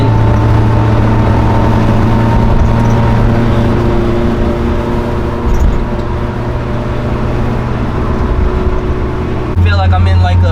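A previously flooded Honda S2000 being driven, its engine droning loud and steady from inside the cabin with a broadband rumble of loose, vibrating parts, and a brief shift in tone near the end.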